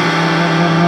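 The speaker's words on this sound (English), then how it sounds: "And we'll throw some distortion." An electric guitar with heavy distortion sustains a single thick, buzzing tone in a funk-meets-metal style, loud and alone for under a second.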